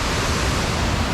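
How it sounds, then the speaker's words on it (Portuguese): Waterfall on a river crossing the middle of Oslo, a steady, loud broadband roar of rushing water with no pauses, close by and unbroken by voices. "E o rio cruza tudo e tem uma cachoeira no meio da cidade"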